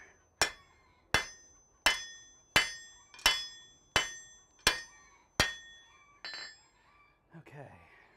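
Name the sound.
hammer polishing metal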